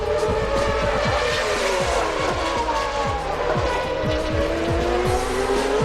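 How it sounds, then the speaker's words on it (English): CART race cars circle the Long Beach street track during 2002 qualifying, their engines whining loud and near, with repeated quick gearshift drops and rising revs layered over one another. "We have lots of cars on track."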